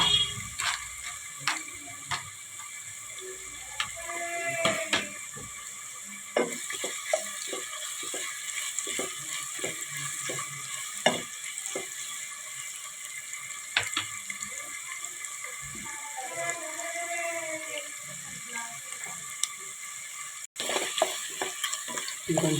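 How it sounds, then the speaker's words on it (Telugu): Onions sizzle in a pan with green chillies and curry leaves, a steady close frying hiss broken by occasional spoon scrapes and light clinks of stirring. "ఉల్లిపాయలు ఫ్రై అవుతున్నాయండి."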